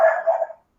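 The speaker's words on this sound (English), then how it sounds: "Oh, there's my dog saying hello." A small white dog lets out a quick, close bark or two that fade within about half a second, with no talking over it.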